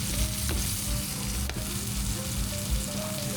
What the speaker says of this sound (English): you will want to render out some of the fat on the side of the strip loin